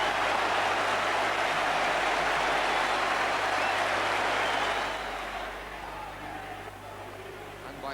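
A large football crowd at a 1986 FA Cup match roars in a dense, sustained wash of cheering that stays loud for several seconds before easing off toward the end.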